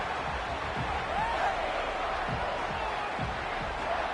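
A stadium crowd in the NCAA 26 college football game gives a steady, diffuse murmur with soft thumps underneath, sitting at a moderate level with no clear cheer peaks.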